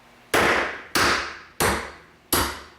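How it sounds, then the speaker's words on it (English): A 1 pound brass hammer strikes the head of a centering punch on a urethane pad, four sharp metallic blows spaced evenly about two-thirds of a second apart, each one loud and close with a short ringing decay. "I want to strike dead on the head of this punch here."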